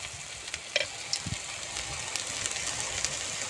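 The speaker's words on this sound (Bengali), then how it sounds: "এই পিঠটা সুন্দর করে ভেজে নেব।" Lentil and thankuni leaf fritters frying in hot oil, a continuous close sizzle with a few small pops and clicks, no talk.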